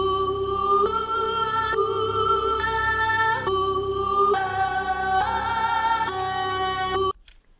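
Melody pattern made in FL Studio 20 to flip a sample, a bright sustained synth line stepping through chord changes about once a second, steady and close, ending abruptly after seven seconds.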